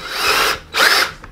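Power drill boring through the back of a clock, two close, loud whining bursts each about half a second long with a short pause between.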